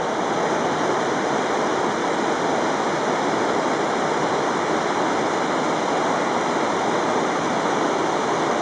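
Bright Angel Creek in the Grand Canyon rushes along on a chilly morning, making a steady, loud, unbroken roar of flowing water with no voices.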